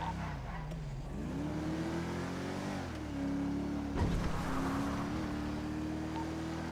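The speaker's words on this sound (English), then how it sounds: "Still spinning out." A stolen black SUV spinning out during a police chase in a roleplay game, its engine droning and rising in pitch with revving surges and a scraping burst midway, heard continuously at moderate level.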